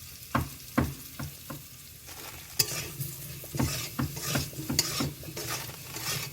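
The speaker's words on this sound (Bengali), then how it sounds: "আলু ভাজা গেছে জল দিয়ে আলু ভাজা গেছে" Potatoes fry in a pan while being stirred, with a steady sizzle broken by repeated scraping, clattering strokes of the spoon against the pan, close and fairly loud with no talking.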